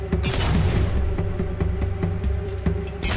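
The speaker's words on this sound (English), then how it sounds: "No, it's gunshot again." Gunfire in the video game Fable II on Knothole Island, a run of sharp booming shots at an irregular rhythm over a dense, loud game soundtrack with a steady drone beneath.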